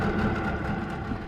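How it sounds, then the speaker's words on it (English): An outboard engine on a dinghy idles just after a pull start, a steady close low rumble throughout with no voices. "You should get slightly higher idle, and then the idling should drop."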